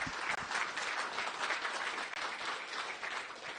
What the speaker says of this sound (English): Please give them a big round of applause e kare mā